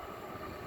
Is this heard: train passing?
yes